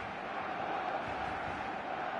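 Stadium crowd in the video game eFootball 2026, a broad, steady roar of massed supporters with a dense murmur and no distinct peaks, heard at a moderate level.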